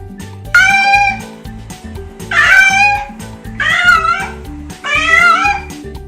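Four drawn-out meows, clear and close, with short pauses between them over a soft steady rhythmic backing of music.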